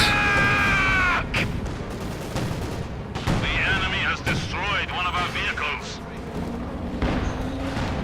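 Soviet S-76 guns fire in the video game Company of Heroes 2 during a 1v1 match, with repeated booming and cracking shots over steady battlefield noise and a faint voice in the mix.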